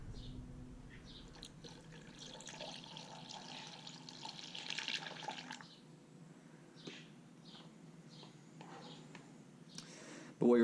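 Coolant trickles and gurgles steadily into a Kawasaki Ninja motorcycle radiator, a soft liquid pour that slowly fades, with quiet talk over it and a brief clunk at the end.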